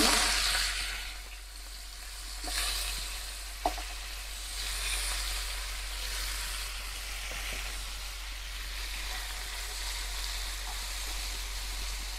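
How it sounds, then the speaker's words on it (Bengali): Meat frying in a pan, a steady close sizzle over a low mains hum, with occasional stirring scrapes and one sharp clack, no voices. "এখন এই যে মাংসগুলো ভাজা নিব"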